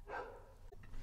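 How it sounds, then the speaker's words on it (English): A dog barks somewhere in the background during an indoor recording, a short burst of barking that is moderately loud, with a couple of brief yelps. "Shall I pause this while that dog keeps going?"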